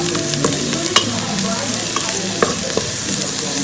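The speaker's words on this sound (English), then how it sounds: "I'll now add my onions. I'll let it cook a few minutes." Onions frying in about a tablespoon of cooking oil, a continuous close sizzle with soft stirring clicks and pops, no voices.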